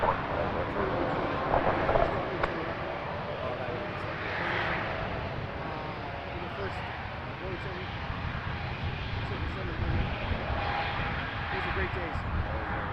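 Airliner taking off from runway 06 left at Toronto Pearson Airport, a steady broad engine roar heard from a distance over the full stretch, with people talking intermittently over it and faint radio chatter.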